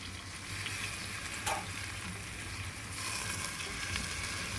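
Mint and coriander leaves sizzle softly in hot oil, a steady low crackle and hiss with a few brighter spits, fairly quiet and close, no voices.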